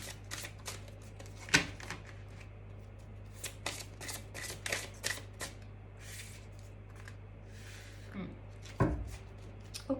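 Tarot cards shuffled by hand in a run of quick crisp riffles and soft slaps, close and fairly quiet, with a low steady hum beneath and a few brief louder knocks.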